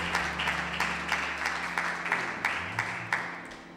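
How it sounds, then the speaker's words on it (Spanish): A church congregation claps during a Spanish-language worship service, with a brief burst of rhythmic applause and sharp repeated claps over a low hum. The sound is moderately distant and fairly quiet, with no speech. "Denle un fuerte aplauso al Señor Jesucristo"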